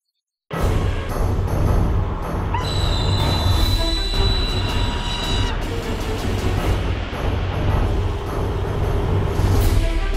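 A train rumbles past steadily and loudly on the old Spessart ramp between Laufach and Heigenbrücken near the Schwarzkopf Tunnel on a foggy morning, its wheels squealing in high metallic tones throughout, with no talking.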